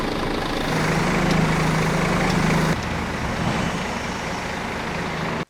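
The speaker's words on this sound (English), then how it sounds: "since the engine is running, you can't really hear where the leak is coming from" A wheel loader's engine runs at a steady idle nearby, a continuous loud low rumble with a faint tonal hum that shifts slightly partway through, heard alone without talk.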